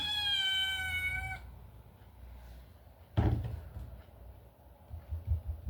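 A house cat lets out a single drawn-out meow, clear and close. A sharp knock like a cupboard door follows, then soft thumps.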